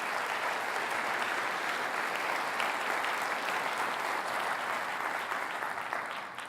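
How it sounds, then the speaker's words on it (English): Warm audience applause at a conference opening fills the hall as a dense, steady clapping that stays even, then begins to fade at the end. "how about a warm applause for the drummers?"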